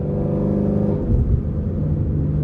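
A car with an automatic gearbox holds steady at about 3,000 RPM in a low gear, giving a constant loud engine drone and rumble from inside the cabin with no upshift.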